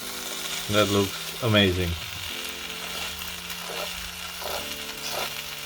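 Slices of bread frying crisp in a pan for a full breakfast, a steady close sizzle running throughout while a person briefly speaks over it early on.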